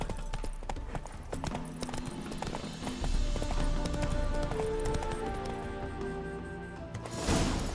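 Galloping horse in The Witcher 3 game, with brisk, rhythmic hoofbeats running steadily over background game ambience, close and continuous, ending in a brief louder burst.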